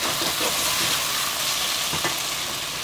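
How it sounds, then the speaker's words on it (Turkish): Potato and carrot pieces sizzle steadily in a covered pan, a loud continuous frying hiss close by with faint crackles and no voices. "Evet, kapağını kapatarak biraz kavrulması için bekleyelim."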